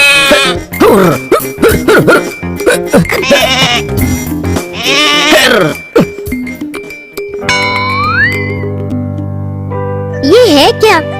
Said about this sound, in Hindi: ये बकरी कहाँ से ले आए हो तुम?